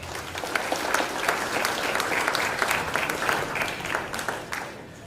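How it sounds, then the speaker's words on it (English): Steady applause from a conference audience at a FOSDEM 2017 talk on localisation tools, dense continuous clapping at even loudness throughout, with no talk over it. "let's give them a round of applause"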